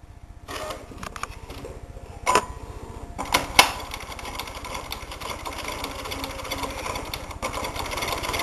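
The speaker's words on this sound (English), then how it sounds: "take this to the sewing machine and follow the stitching that I did" Sewing machine stitching along a bodice seam at the bust apex, a rapid mechanical chatter that runs continuously and close with a few sharper clicks and thumps early on, no voices.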